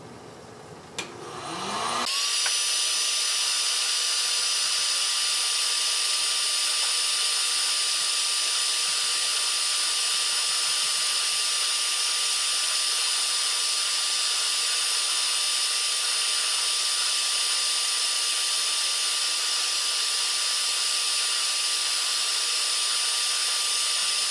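A heat gun warms a section of a PVC pipe sword handle so it can be bent, giving a steady, loud blowing hiss with a constant whine. It starts after a short lead-in and runs on without change.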